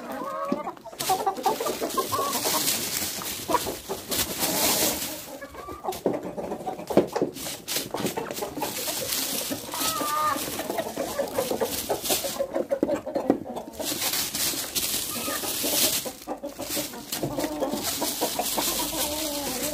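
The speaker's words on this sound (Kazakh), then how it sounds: "Сөйтіп тауықтарыма пряник бердік." A flock of chickens cluck and squawk nearby while pecking at gingerbread, a busy overlapping chorus of short calls with pecking clatter, steady and unbroken throughout.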